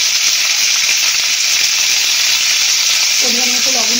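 Thick pieces of raw mango with salt sizzle in a hot pan for chutney, a loud continuous hiss with stirring, and a voice begins speaking near the end.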